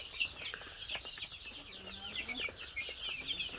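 Young free range chickens, about a month old, cluck and chirp softly and steadily on a small farm, with several birds calling over one another at a moderate distance.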